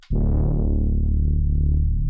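A single deep one-shot synth bass note with no effects hits sharply and sustains for about two seconds, dry and thick, then cuts off abruptly.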